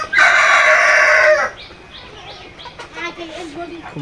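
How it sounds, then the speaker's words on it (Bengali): A rooster crows loudly and close for over a second among farm-raised laying hens, then the hens keep up soft, scattered clucking and low calls. "এগুলো হচ্ছে ফার্মি মুরগি, ডিম পাড়া রানিং মুরগি"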